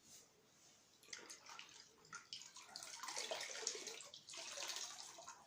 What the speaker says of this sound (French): Donc la microfibre, vous allez la mouiller dans l'eau.